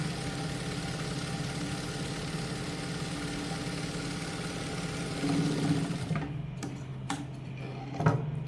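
A sewing machine stitches salwar pant fabric with a half-inch seam, giving a steady mechanical whir and hum for about six seconds. It then stops, leaving a few separate clicks and taps in a quiet room.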